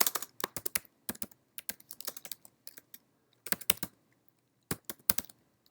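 A computer keyboard clatters in irregular bursts of quick keystrokes and clicks, close and fairly quiet, with short pauses between runs.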